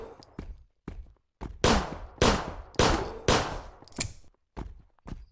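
Gunfire in the zombie game Zompiercer, a series of sharp single shots, some isolated and a cluster of four heavier blasts in the middle, close and loud with silent gaps between.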